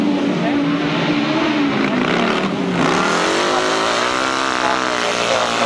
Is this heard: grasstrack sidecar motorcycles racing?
yes